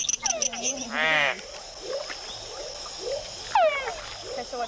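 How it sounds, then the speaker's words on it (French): Male frogs in a rainforest call for mates with repeated chirping, warbling croaks of several kinds, some close and loud, over a steady drone of insects. "Seuls les mâles coassent pour appeler une partenaire."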